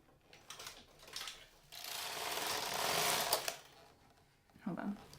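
Carriage of a Brother KR850 standard-gauge knitting machine with ribber sliding across the needle bed, a rising and falling mechanical clatter and whir in a couple of passes, with quiet talk around it.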